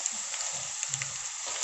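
Green chillies frying in a pan over a gas flame give a steady, soft sizzle, a continuous hiss with faint stirring scrapes, close and quiet throughout.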